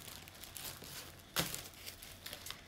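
Rice paper for crafting is handled close up, with quiet crinkling and rustling and one sharper crackle midway, all soft and brief.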